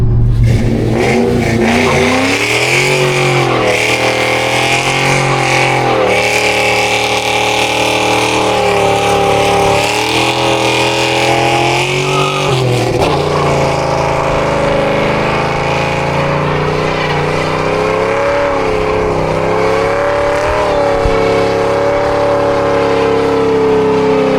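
A Cobra car drives on a closed course during a suspension test. Its engine is loud and close, revving and droning with pitch rising and falling through the run. The roar is continuous and there is no speech.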